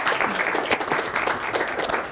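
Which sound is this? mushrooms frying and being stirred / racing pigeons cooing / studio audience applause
studio audience applause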